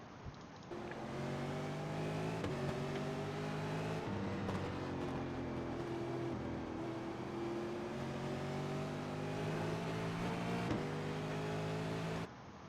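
A V8 Supercar engine roars steadily at Okayama in a racing simulator game, revving up and down through gear changes and corners, loud and continuous with no pauses.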